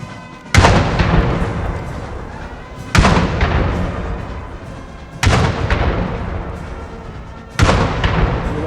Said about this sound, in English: The cannon salute happening